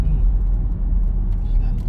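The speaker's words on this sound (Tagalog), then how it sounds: "Madami na sasakyan, di ba?" Heavy road traffic with many cars, a loud continuous low rumble of engines close by while people talk over it.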